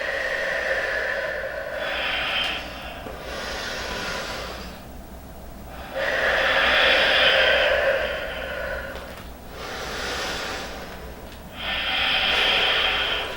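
Deep, slow breaths drawn in and pushed out during an advanced yoga backbending flow, in roughly four long cycles. Each breath is a loud, close, airy rush with a hissy, snort-like edge, and no one speaks.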